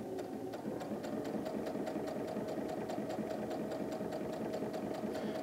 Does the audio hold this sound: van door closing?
no